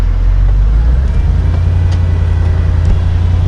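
A Mercedes-Benz SL55 AMG fitted with a carbon fiber diffuser drives along with a steady low engine rumble and road noise, close and continuous throughout.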